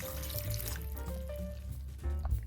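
A little water poured into a pan of half an onion, cumin seeds and salt before blending into a paste, a steady close trickle over a low hum lasting a couple of seconds.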